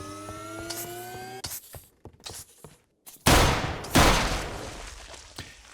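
Sentry turrets in the video game Manufactio fire loud bursts of rapid gunfire. A few sharp shots come first, then two heavy sustained volleys close by, after a tonal hum fades out.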